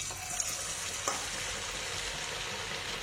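Spoonfuls of raw potato batter fry in hot oil, giving a steady, fairly quiet sizzle with a couple of faint clicks near the start and after one second, and no one talking.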